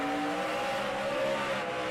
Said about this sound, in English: you can hear the 9 car. His rear tires are spinning big time up off the corner.